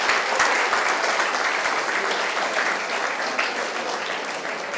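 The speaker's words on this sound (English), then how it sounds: "a big round of applause for our volunteers" A large audience applauds volunteers at a live hackathon event, steady dense clapping sustained throughout at full strength with no voices over it.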